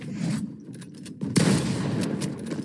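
Video game gunfire erupts in rapid bursts, dense crackling volleys with a sharper burst in the middle, loud and steady throughout with no talk.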